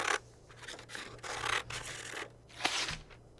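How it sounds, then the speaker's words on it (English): Scissors cut repeatedly in the survival video game The Long Dark: a series of scratchy, rasping snips in an uneven rhythm, close and fairly loud, with no talking. "Chop chop with the scissors."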